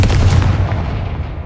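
A Confringo spell explosion from the Hogwarts Legacy video game: one loud, close, booming blast at the start, followed by a rumbling decay that fades over about a second.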